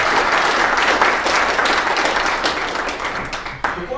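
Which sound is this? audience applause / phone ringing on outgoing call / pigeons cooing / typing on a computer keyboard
audience applause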